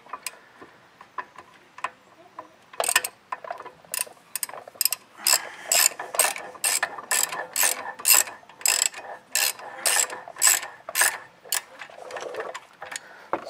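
A torque wrench tightens a brake caliper bolt on a Volvo V70/S60/S80 during a front brake caliper and pad change, giving a close series of sharp ratcheting clicks in quick bursts with short pauses between them.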